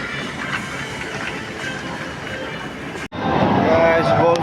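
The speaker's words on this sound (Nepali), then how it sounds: "सिक्किमको ट्रेन चाहिँ यस्तो हुने रहेछ भनेर" A train running in Sikkim gives a steady rumbling rattle with clickety-clack wheels, cut by a brief dropout and then returning louder and closer.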